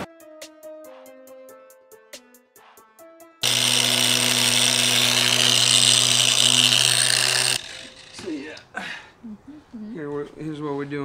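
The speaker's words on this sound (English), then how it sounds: "We're using a DA polisher to sand." A DA polisher fitted with sandpaper drones loudly and steadily for about four seconds, coming in after a stretch of music and followed by people talking.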